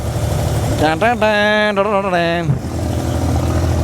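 An abra water taxi on Dubai Creek chugs with a steady, low engine rumble. A voice rises in a drawn-out, wavering tone over it for a moment.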